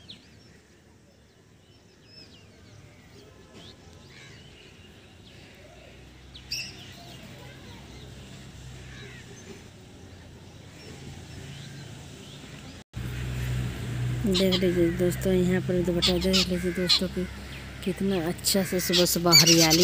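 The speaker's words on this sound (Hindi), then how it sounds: "चिड़िया सब चहचहा रही है" Birds chirp scattered and faint around a village on an early morning, growing livelier toward the end while someone talks over them for most of the stretch.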